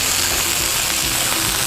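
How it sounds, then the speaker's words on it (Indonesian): Shallot, garlic, chili and ginger stir-fry in oil in a pan with a steady, bright hiss and sizzle, close and continuous, with faint stirring underneath. "Kita tumis sampai harum"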